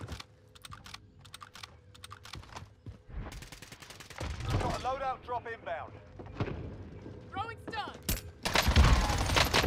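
Rapid gunshot bursts from Call of Duty: Warzone, with XM4 and Kar98k rifles, and clattering keyboard typing mix with fragments of voices, the firing growing louder and denser toward the end.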